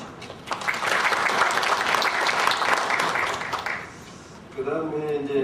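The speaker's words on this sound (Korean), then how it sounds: "큰 박수로 받아주십시오." A seminar audience gives a warm welcome to a Korea University professor, dense sustained applause for about four seconds that fades out, followed by someone speaking.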